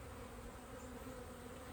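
Honey bees drone steadily from an open hive holding about six frames, a dense continuous buzz close by with no voices over it.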